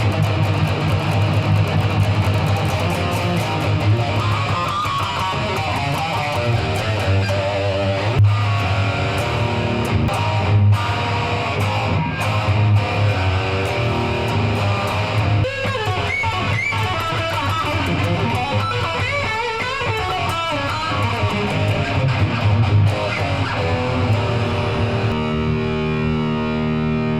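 A Chibson Randy Rhoads polka-dot Flying V replica plays through a Line 6 Catalyst amp with the gain turned up high, giving a continuous, loud, heavily distorted electric guitar that rings out alone for the whole stretch.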